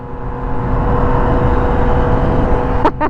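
A car engine drones and revs up while the car rolls downhill, a steady loud mechanical hum heard from the cabin, with a brief sharp noise near the end.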